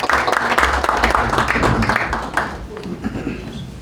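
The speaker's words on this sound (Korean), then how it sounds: "큰 박수로 맞이해 주시면 감사하겠습니다" Audience applause welcoming a speaker at a Christian forum on elections, a dense burst of clapping from a crowd that thins out toward the end, with a low rumble underneath.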